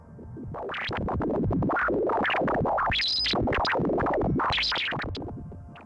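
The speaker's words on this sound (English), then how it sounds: "This is the sound of the solar wind." A continuous, warbling electronic texture with shifting bursts and crackly fluctuations, swelling and fading, a sonification of solar wind data from the Parker Solar Probe.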